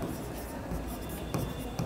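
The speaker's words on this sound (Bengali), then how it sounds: "তাহলে এখানে লিখবো কি জাফরিন" Pen writing by hand on paper while working through an accounting exercise, a soft continuous scratching close by with a couple of brief taps.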